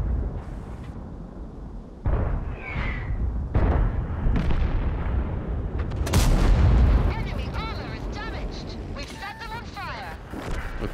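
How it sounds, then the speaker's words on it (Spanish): Heavy artillery shells land in a World of Tanks battle, with several loud booms at irregular intervals over continuous game noise and rumble. "Vamos a ver si la artillería le pega"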